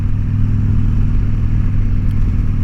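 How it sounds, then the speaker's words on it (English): A 2003 100th anniversary Harley-Davidson Sportster 1200 motorcycle engine rumbles loud and steady with a deep, continuous low throb, heard close and alone. "this is my 2003 100th anniversary Harley Davidson Sportster 1200"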